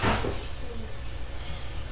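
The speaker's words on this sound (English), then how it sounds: "The door shutting." A door shuts indoors with a single soft thump near the start, followed by low room noise and faint background murmur.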